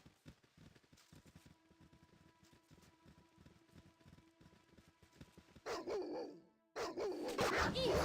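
Dogs in a fantasy role-playing video game bark in loud, harsh bursts near the end, following a stretch of quieter, rhythmic game sounds and clatter.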